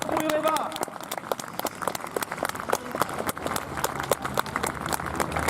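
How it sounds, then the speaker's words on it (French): Crowd applause and scattered clapping for the REVA aerobatic team at an air display, a dense continuous patter of many hands mixed with crowd noise and voices, steady throughout. "je vous demande des applaudissements pour la patrouille Reva"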